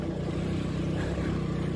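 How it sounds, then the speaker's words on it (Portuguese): Motorboat engine droning steadily and loud throughout, a continuous low rumble with slight rising strain as it accelerates across scenic water, no voices present. "Acelera o motor."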